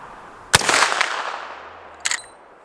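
A single loud shot from a Marlin 1895SBL lever-action rifle fired outdoors, with a sharp crack, a rolling echo that fades, then a fainter distant report about a second and a half later.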